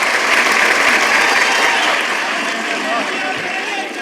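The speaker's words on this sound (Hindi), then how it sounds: "आपकी तालियों की मोहर तो मेरी इस बात पर लगेगी" Loud, sustained applause from an audience at a Hindi kavi sammelan poetry recital, dense clapping filling the whole stretch and easing slightly toward the end.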